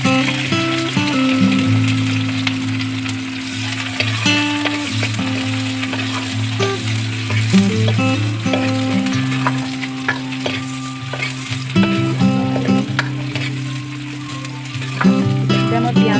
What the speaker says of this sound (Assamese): এতিয়া মই পিঁয়াজটো ৰঙচুৱা হোৱালৈকে অলপ টাইম ভাজি ল'ম।